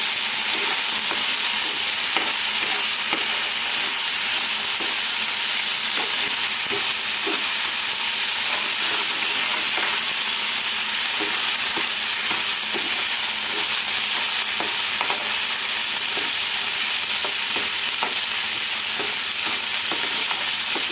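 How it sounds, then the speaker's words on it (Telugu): Masala spices frying and being stirred in a pan, a steady loud sizzle and hiss throughout with frequent scraping stir strokes, no voices. "మసాలా కూడా ఇలాగ వేయించుకోండి."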